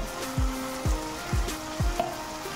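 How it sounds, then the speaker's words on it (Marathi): Hot oil sizzles steadily in a pan as chili powder is added for tempering chicken sukka, with a few soft thuds of stirring spaced through the frying. "आपण आता इथे पुन्हा थोडंसं फोडणीला टाकणार आहोत तिखट"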